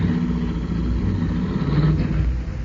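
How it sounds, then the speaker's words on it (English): A car pulls away down a street, a steady mid-pitched engine drone holding at close range through a dense noisy background, with no voices. "Now get into your car and drive off down the street."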